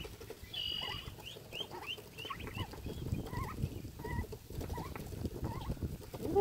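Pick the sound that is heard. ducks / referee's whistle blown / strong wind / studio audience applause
ducks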